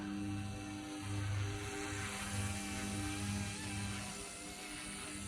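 A small Blade Infusion 120 RC helicopter flies with a steady buzzing rotor hum that pulses slightly, moderately close, with no talk.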